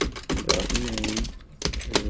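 Rapid keystrokes on a computer keyboard while setting up a game health bar, a fairly close, busy clatter of clicks in short bursts with brief pauses.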